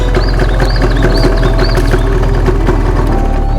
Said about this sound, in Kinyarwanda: tukaba tumaze guhagurutsa moto yacu twagiye